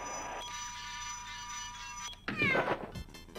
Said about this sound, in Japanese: 猫飛び出てきたんだけど。